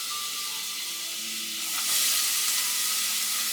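Chopped onion and garlic sizzle steadily in melted butter, a close, even frying hiss that swells a little louder partway through, with no voices.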